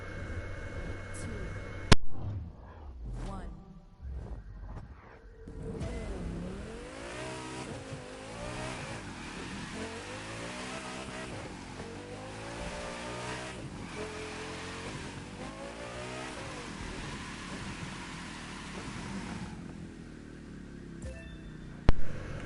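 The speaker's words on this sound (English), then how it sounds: "I feel like the cars are a little too loud" Cars race and drift on a track in The Crew 2, engines revving and rising and falling in pitch with tire noise, continuous and fairly loud, with a voice talking over them.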